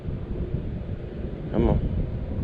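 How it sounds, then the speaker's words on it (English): Strong wind buffets the microphone on a fishing boat during smallmouth bass fishing, a steady low rumble throughout with a louder gust near the middle. "this wind is murder, y'all"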